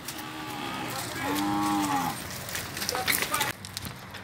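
Cows at a cattle auction of lot 5, cows with calves, let out a long, low moo mid-clip that carries over a steady auctioneer's voice and pen noise, followed by a busier stretch of rustling and knocks.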